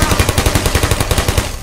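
Turret in the video game Portal firing a rapid, loud burst of automatic gunfire, evenly spaced shots in a continuous stream with no talk.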